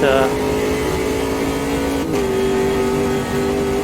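Simulated Ginetta G58 race car engine in Automobilista 2 holds a steady high-pitched drone throughout, with a brief dip and recovery midway as if easing off and back on the throttle, loud and continuous.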